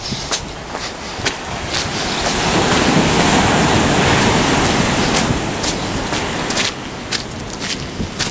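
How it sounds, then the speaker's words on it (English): Ocean surf rolls steadily onto a beach near a hotel point, a continuous broadband wash that swells in the middle, with wind buffeting the microphone throughout. "What a beach."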